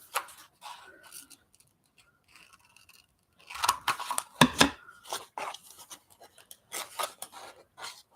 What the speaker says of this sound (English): maybe I'll cut it if I can find some scissors